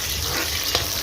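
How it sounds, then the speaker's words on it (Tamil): Chopped onions dropped into hot oil with cinnamon, star anise and bay leaf for a soya chunk biryani, giving a steady close sizzle and frying hiss for the full second with one brief louder crackle. "எண்ணெய் சூடான பின் பட்டை, ஸ்டார், பிரியாணி இலை அனைத்தையும் போடவும். பின் நறுக்கிய வெங்காயத்தை போடவும்."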